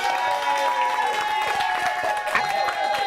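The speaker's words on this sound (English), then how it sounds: "Give him a round of applause." Studio audience applauding a departing contestant on a game show, a steady dense wash of clapping and light cheering throughout, fairly close.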